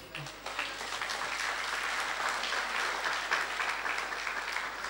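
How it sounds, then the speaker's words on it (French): A church congregation applauds and cheers steadily at a moderate distance, a dense even wash of clapping that holds for several seconds. "Est-ce qu'on peut les acclamer très fort?"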